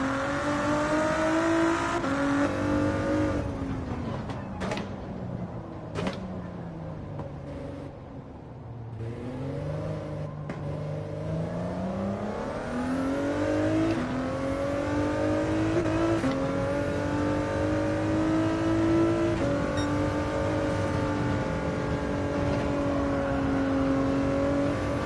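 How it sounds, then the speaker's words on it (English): Car in Gran Turismo 7 on PS5 rolls automatically through the pit lane during a daily race, engine droning and rising and falling in pitch, with a few sharp clicks early on and no talking. "the car takes you through the pits automatically"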